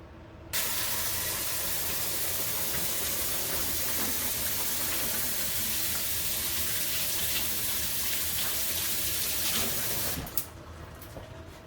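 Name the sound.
water running while washing hands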